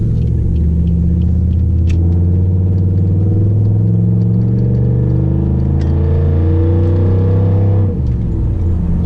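A 2007 Pontiac Grand Prix GXP with its LS4 V8 pulls forward through snow, its steady low engine drone loud and close from inside the cabin, a few faint clicks and bumps over it and a brief dip near the end.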